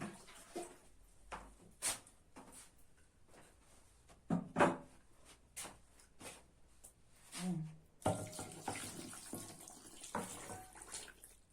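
Half a litre of mixed cold and warm water pours into a pot while lunch is being cooked. The trickling and splashing comes in uneven spurts and is fairly quiet, then swells into a fuller, steadier pour near the end.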